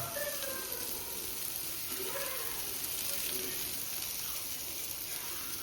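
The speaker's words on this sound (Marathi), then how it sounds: "आपली तवा कोलंबी फ्राय रेडी झाली" Prawns fry on a flat tawa over a gas flame, giving a soft, even sizzle and hiss that holds steady throughout at low volume, with faint voices in the background.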